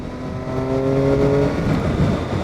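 A 2007 Triumph Street Triple 675 motorcycle engine revs up steadily and close, its droning tone climbing and holding, then settling into a rougher, noisier rumble toward the end.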